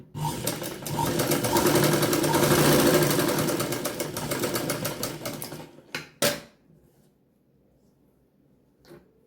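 A sewing machine stitching tucks on a blouse runs in a fast steady mechanical chatter for about six seconds, then stops with a few short clunks and near silence.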